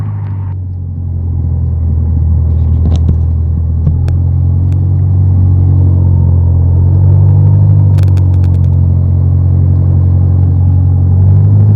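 Piper PA28 Warrior single-engine light aircraft taxiing out to the runway, heard from inside the cabin as a loud, steady low engine drone that continues unbroken, with a few faint clicks over it.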